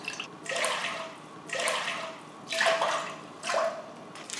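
Water pours into a cooking pot in four separate bursts, each about a second long with brief pauses between, steady and close, before boiling five cups for a peanut rice noodle dish.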